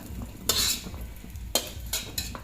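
Vegetables fry in oil in a pan as a spoon stirs them, giving a low sizzle under three sharp scraping bursts of utensil against the pan, close and alone.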